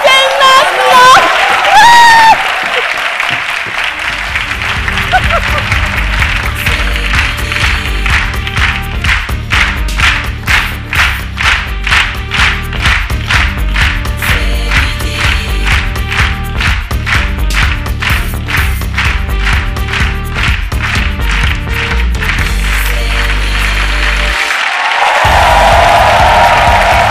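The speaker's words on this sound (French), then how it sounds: "Chaleureux public, applaudissez-vous s'il vous plaît, chaleureux public." A studio audience at a French television midday show claps and cheers over rhythmic upbeat music, a loud sustained burst of applause that stops abruptly near the end.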